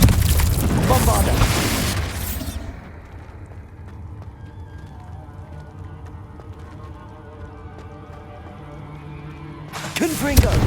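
A Bombarda blasting spell explodes in a cave in Hogwarts Legacy, giving a loud burst with crumbling debris at the start, a quieter rumbling stretch of ambience, then another sharp blast at the end.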